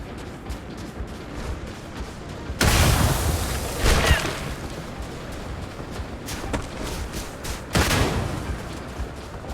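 Explosions in the space game Starfield: a sudden broad blast with a rumbling tail, a second burst a second later and another heavy boom near the end, over a steady background of game noise and distant gunfire-like crackle.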